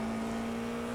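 Steady engine drone of an FIA F4 race car in the iRacing simulator at Rudskogen Motorsenter, a constant mid-pitched tone held at a fairly even level for about a second with no one talking.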